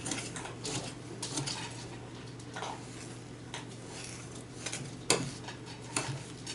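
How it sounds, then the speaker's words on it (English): A utensil works sugar and butter flavor Crisco together in a bowl for chocolate chip cookie dough, producing soft close scraping and stirring with occasional light clinks against the bowl, no talking. "Now we're just going to mix this all together with both sugar and the butter flavor Crisco."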